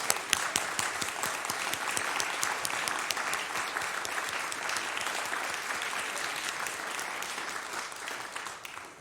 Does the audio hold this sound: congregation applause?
yes